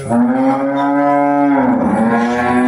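A single cow on a 50-cow organic dairy farm gives one long, loud, close moo that holds steady and then drops in pitch near the end, with no other sound.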